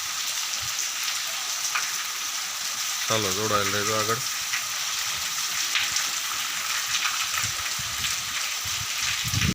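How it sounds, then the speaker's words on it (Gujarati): Heavy rain pours down in a village, a dense steady hiss of falling water throughout, with a brief whistle-like tone partway and someone speaking briefly over it near the end. "ચોવીસ તારીખની સાંજથી વરસાદનો માહોલ એકદમ ઝડપી વરસાદ આવ્યો"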